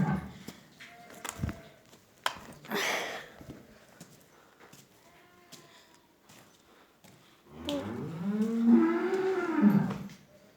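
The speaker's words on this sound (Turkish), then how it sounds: "Dana, düve, düve, inek, inek, inek." Cattle, including calves, heifers and cows, in a farm setting; scattered clattering and shuffling noises lead into a long, loud, close moo near the end.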